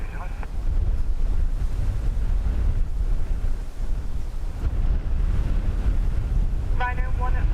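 Strong wind buffeting the microphone at Dublin Airport, a steady loud low roar of gusts with no let-up throughout, ending with a brief faint tonal burst.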